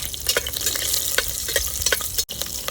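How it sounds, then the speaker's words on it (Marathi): Garlic cloves and green chilies frying in hot oil in a cooker, a steady close sizzle with scattered crackles and a brief clink near the end. "आपण त्याच्यामध्ये सात आठ लसणाच्या पाकळ्या टाकून घ्यायच्या आहेत चार ते पाच हिरव्या मिरच्या"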